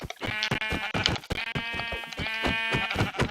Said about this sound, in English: Oh, now there's loads of sheep.